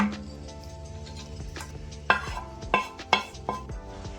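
A pot and metal utensils clink and scrape as tempering is added to drumstick sambar, with a steady background hum and several sharp knocks and taps in the second half, with no talk.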